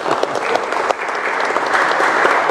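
An audience at a school event applauds in a loud, continuous burst of many hands clapping, a dense crackling texture with no talk over it.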